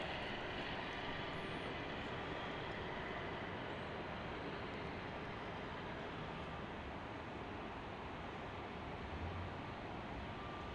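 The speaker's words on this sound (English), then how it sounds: "Headed our way for a departure will be American 2069, going back to Chicago O'Hare." American Airlines jet departing Salt Lake City airport for Chicago O'Hare, a steady broad engine roar heard from a distance, constant and unbroken throughout with no voices.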